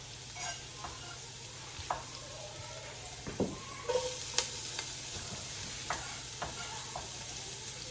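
Chopped onion softens in a pot over gentle heat, a low steady sizzle running throughout while a spoon scrapes and stirs in short irregular strokes close by, with no talking.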